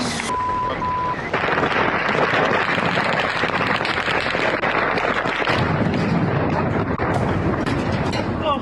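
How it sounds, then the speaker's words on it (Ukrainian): A Ukrainian drone attack strikes a Russian defence-industry site in Kaspiysk, Dagestan, with loud, booming blasts and broadband rumble filling the whole stretch, and a sharp burst near the start. "Вибухнуло."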